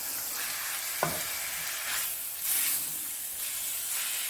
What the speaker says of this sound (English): If you can see how the meat is quickly cooking